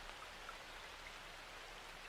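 Rain comes down steadily and patters against windows, a soft, even hiss of drops that stays faint and unbroken throughout.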